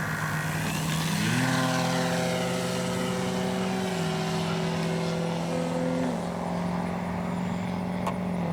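CNHL Bison XT RC STOL plane's electric propeller drones in flight with a steady buzzing whine that shifts pitch as throttle changes, sustained and fairly close throughout.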